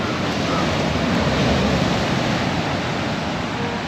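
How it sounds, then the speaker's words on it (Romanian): Big ocean waves breaking on a beach in Tangalle, Sri Lanka, making a steady, loud roar of surf with no pauses and no voices. "Ne apropiem de plajă și se pare că sunt mega valuri."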